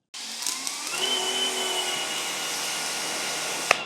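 A Fanttik NB8 Ultra portable cordless pressure washer sprays at 800 PSI, a loud steady hiss and motor whine rising as it starts, then holding constant up close before a brief click near the end.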